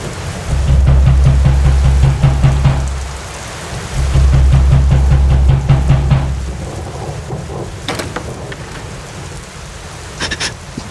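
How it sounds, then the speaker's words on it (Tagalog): Steady heavy rain hisses throughout, with deep rumbling swells like thunder rolling in twice and fading, plus a few sharp drips or taps near the end. "malakas ang ulan sa labas mula pa noong nakaraang gabi"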